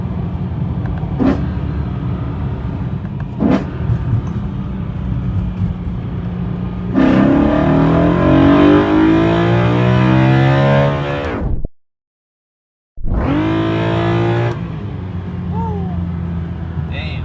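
Modified BMW E92 M3 with a glass intake plenum revving hard toward an 8600 RPM redline, a loud rising wail with strong induction roar that cuts abruptly, a brief gap, then a second sharp rev; heard close from inside the car.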